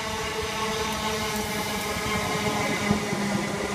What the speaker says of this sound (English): the next train to arrive is going to be the 1347 Greater Anglia service to Southend Victoria from London Liverpool Street